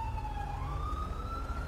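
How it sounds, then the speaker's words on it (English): A police siren wails steadily during a roadside police stop, its rising and falling tone carrying loudly over a low traffic rumble for the whole stretch, with no talking. "Are all those sirens for you?"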